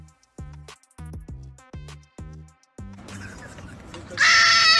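A trapped goat bleats in a series of short, harmonic cries, then a harsher, noisier bleat and a loud burst of noise at the end.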